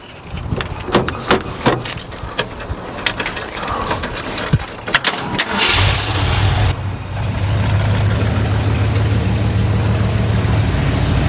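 Keys jangle close by, then a restored car's engine cranks and catches, settling into a steady, throaty idle that continues to the end.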